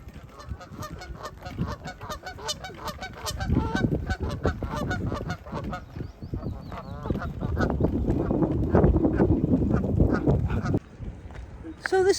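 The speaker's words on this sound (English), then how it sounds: "Lots of geese and doves." Geese honk repeatedly and loudly beside a lake, overlapping calls from a flock with some duck-like quacks, fairly near and continuous with no talk.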